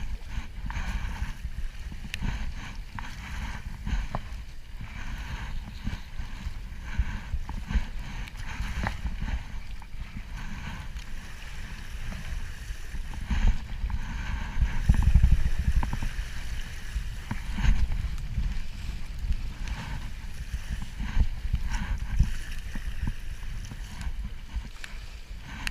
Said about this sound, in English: Okay, gently paddle forwards.